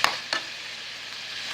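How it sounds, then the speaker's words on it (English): Onions frying and caramelizing in a pan for a ground turkey and green pepper dish, a steady soft sizzle broken by a few sharp stirring clacks. "let the onions release its flavor and its juices. And give it flavor and let it caramelize and get hot"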